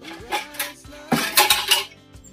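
Dishes, pots and cutlery are being washed in a home kitchen, with clattering clinks and knocks in quick bursts, close and fairly loud, without talk.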